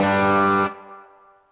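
A sustained distorted guitar chord played through a Korg ToneLab LE reverb rings out, then cuts off, leaving a reverb tail that fades away over about a second.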